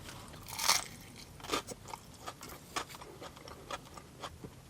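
Crisp bites and crunching chews on battered haddock from a fish and chips plate, several sharp close crunches spaced irregularly over a few seconds, fairly quiet with no talking.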